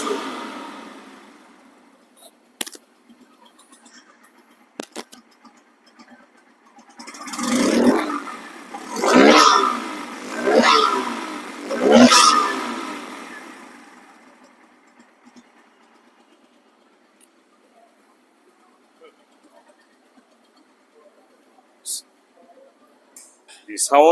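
A nearly new motorcycle, three months old with 3,400 km, revs up several times in quick surges, rising and falling, then settles back to quiet idle; speech is heard around it.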